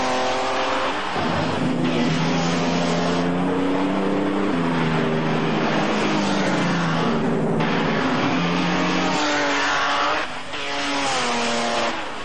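Loud, roaring 1930s racing car engines, including Mercedes, at the 1937 Tripoli Grand Prix, running continuously, revving up and down through gear changes, close by and dominating throughout.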